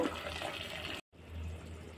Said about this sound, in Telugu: మరిగిన వాటర్ని అయితే ఇందులో యాడ్ చేసేస్తున్నాను